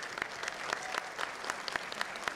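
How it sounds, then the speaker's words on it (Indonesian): An audience applauds with steady, fairly faint clapping that continues evenly throughout. "Tepuk tangan dong."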